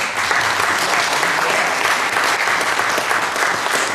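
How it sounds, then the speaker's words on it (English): An audience at a ragtime piano concert in Randall applauds the pianists, a dense, steady wash of clapping that stays loud and even from start to finish. "How about a big round of applause for all the pianists who played so far?"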